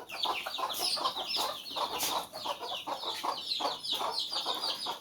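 Chickens being let out cluck and chatter in a continuous busy flock, with a few sharper calls standing out, fairly close and moderately loud.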